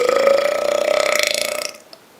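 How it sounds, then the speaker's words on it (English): One long, loud throaty burp with a pulsing, ratcheting texture, held for nearly two seconds before trailing off, heard alone. "I'll burp, and then you show me a video response with your burp"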